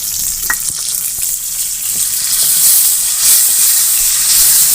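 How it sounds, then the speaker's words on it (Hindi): Tomatoes go into a pan of frying dal, and a loud hissing sizzle rises and thickens over a few seconds, with scattered clicks and spatters early on. "अब हम इसमें टमाटर डालेंगे।"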